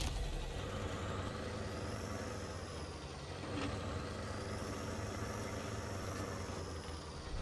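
A truck rumbles steadily while driving in a Michigan-map truck video game, a constant low engine drone with hiss and a rising and falling whine above it, loud and continuous with no talk.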